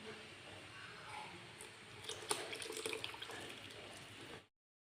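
Leftover water from pressure-cooking ash gourd is poured into a pachadi, a faint close trickle and splash that builds midway, then stops abruptly.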